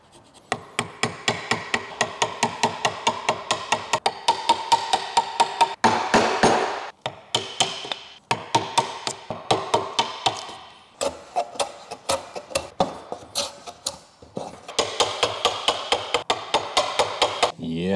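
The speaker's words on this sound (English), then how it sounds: "This is such a dull chisel." A hammer strikes a dull chisel in quick, rhythmic runs of sharp, close metallic blows during a sailboat build, with short pauses and a few scraping sounds between the runs.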